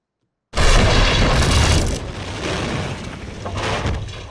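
A bomb blast in a World War II film scene erupts after a moment of silence as a sudden loud boom, then rolls into a long rumbling roar that slowly eases off.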